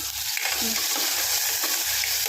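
Curry leaves sizzle in hot oil after fried onions as a spoon stirs them, with a soft, steady crackle and faint scraping strokes close by, no voices.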